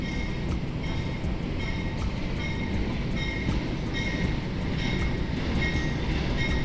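Argo Anjasmoro passenger train from Jakarta Kota pulling into track 1 of a station, a steady heavy rumble of engine and wheels with a rhythmic ticking of wheels over rail joints, loud and continuous.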